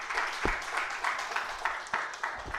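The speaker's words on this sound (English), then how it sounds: "Let's give him a round of applause." A conference audience applauds in a theater after a talk on AI, a dense patter of claps at moderate level with a few sharper individual claps standing out. No voices are heard.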